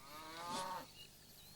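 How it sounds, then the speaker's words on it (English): A single cow moos once, a short low-pitched call rising and fading over about a second, fairly close and clear against a quiet background. "Nice flock of cows. Herd of cows."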